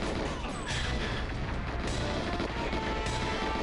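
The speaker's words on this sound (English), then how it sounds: "I heard explosions and the screen was shaking." Dense, rumbling explosions from the 1997 video game GoldenEye 007 on Secret Agent difficulty, loud and continuous with blasts layered over each other throughout.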